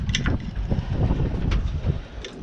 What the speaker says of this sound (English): Sorry about the wind, it's a real windy day today.